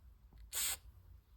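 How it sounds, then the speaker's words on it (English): Spray paint can giving one short hissing burst onto leather arm bracers, close and loud, lasting under half a second amid quiet room tone. "I'm just going to do some small spritz like this."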